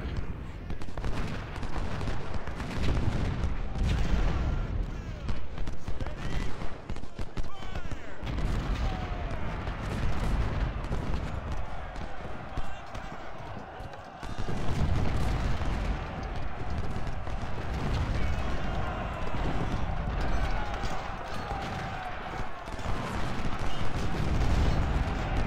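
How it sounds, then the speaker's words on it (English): Artillery fire in the Civil War strategy game Ultimate General: Civil War, heard as a dense, continuous battlefield roar of booming cannon and crackling gunfire, loud throughout, with brief dips in intensity. "I need to deal with this damn artillery"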